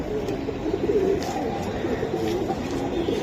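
Silver Giribaz pigeons, a strong flying breed, coo steadily in a loft, a low continuous burbling with overlapping birds close by and faint background voices.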